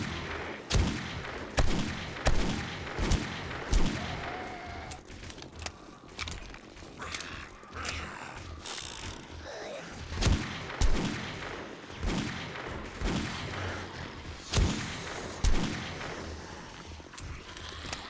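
Gunfire in the video game 7 Days to Die during a horde night: sharp shots ring out one at a time at a steady pace, with short gaps between them, loud and close over a busy low background.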